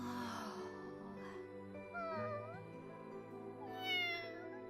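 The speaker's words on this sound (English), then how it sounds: "Do cats really sound like that?" A cat meows in a video game, several drawn-out, pitch-bending cries over a backdrop of sustained tonal game music, moderately loud and close.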